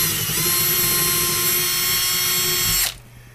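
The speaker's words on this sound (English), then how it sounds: "I didn't drill that hole, did I?" A power drill bores a hole at a rustic log cabin deer hunting camp, running as a loud, steady whine for nearly three seconds before it abruptly stops and leaves a quieter background.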